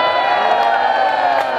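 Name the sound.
crowd cheering at life-size mouse trap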